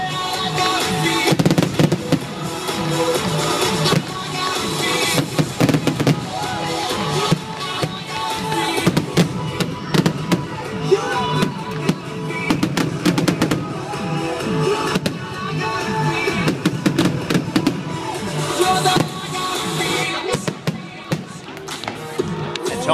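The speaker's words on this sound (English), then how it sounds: "because the fireworks are so loud" Loud fireworks show at Manhattan Beach for the centennial Christmas celebration, with dense, continuous booms and crackling bursts filling the whole stretch, a crowd faintly present beneath.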